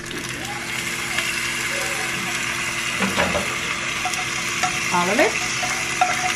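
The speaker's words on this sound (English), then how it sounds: "we're gonna go ahead and add our mixture of the butter with the tomato and the onion" A butter, tomato and onion mixture hits a hot pan and sizzles steadily, with stirring and scraping over the frying hiss while a person speaks briefly.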